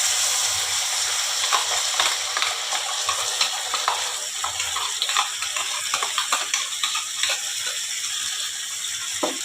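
Ground spice paste fries in a pan with onions already browned, giving a close sizzle mixed with scraping and stirring clatter, fairly loud and continuous with irregular clicks.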